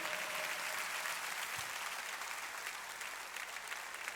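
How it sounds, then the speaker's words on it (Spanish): A church congregation claps for the Lord at a Sunday service, a sustained, even wash of many hands applauding together that continues steadily throughout, with faint voices blended in. "Suelte esa palma y dele un aplauso al Señor para que se libere."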